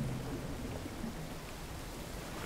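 A video game waterfall hisses in a steady, soft broadband rush, like heavy rain, constant and faint with no voices.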